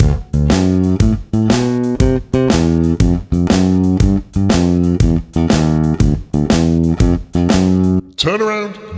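Bass guitar plays a blues progression in steady, even notes at a moderate tempo, ending with a short sliding note at the close.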